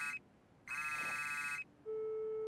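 An outgoing phone call ringing in a Bulgarian-dubbed Disney animated show, two electronic ring bursts separated by silence and followed by a steady tone, clear and alone with no talking.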